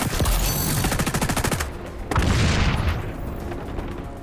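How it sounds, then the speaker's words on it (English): Explosions and gunfire in the video game XDefiant, a rapid automatic burst followed by a heavy booming blast that rumbles and fades, loud and close. "Exploded somebody again!"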